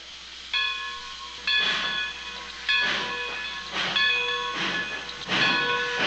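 A steam train starting up, staged as a radio drama sound effect, with repeated loud bursts of hissing steam at a slow, regular rhythm over a steady whistle-like tone.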